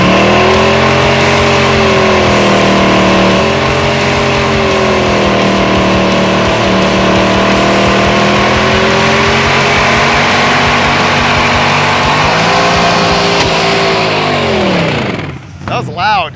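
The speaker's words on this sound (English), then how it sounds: "Or we could do more burnouts." A loud engine-swapped Jaguar drag car roars and revs continuously doing burnouts in a parking lot, pitch rising and falling in long sweeps, then cuts off abruptly near the end.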